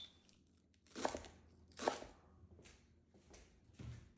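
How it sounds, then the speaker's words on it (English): A knife chops cilantro and green onions on a board, a few soft crunching cuts spaced about a second apart, quiet and close with no talking. "Chop some cilantro and green onions together for a fresh garnish."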